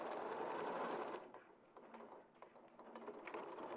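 A sewing machine stitches fabric in a quiet burst of steady whirring lasting about a second, followed by faint mechanical clicks and rattles of the mechanism.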